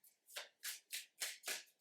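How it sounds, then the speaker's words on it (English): A deck of cards being shuffled by hand, with five quick riffling bursts in a steady rhythm, close but soft, and no talking. "Just the last shuffle."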